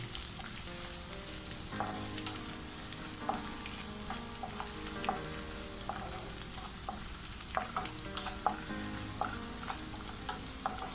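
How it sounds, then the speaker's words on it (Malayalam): Chopped garlic and mushroom masala frying in a pan, a soft steady sizzle broken by scattered clinks and scrapes of stirring, fairly quiet and close. "വെളുത്തുള്ളി അരിഞ്ഞതും കൂടി അങ്ങ് ചേർത്ത് കൊടുക്കാം. എല്ലാം കൂടി ഒന്ന് നന്നായിട്ട് മൂത്ത് വരട്ടെ."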